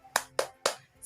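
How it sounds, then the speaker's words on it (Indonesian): Three sharp claps in a steady rhythm from a classroom group doing the tepuk semangat clapping chant, close and fairly loud, with a fourth starting at the end. "kita tepuk semangat dulu yuk dan tepuk senyum"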